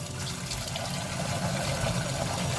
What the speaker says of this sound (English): You're going to want to fill that water level up to just past where the top of the egg would be.